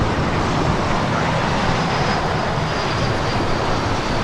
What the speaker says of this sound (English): There she is, the Virgin Atlantic A350 1000, making her way to the gates